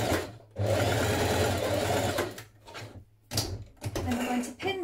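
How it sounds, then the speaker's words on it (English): A sewing machine stitches the centre back of dress facing pieces in a couple of close, steady whirring runs broken by short pauses, and a voice speaks near the end. "sew the centre back of your facing pieces up to the marking here"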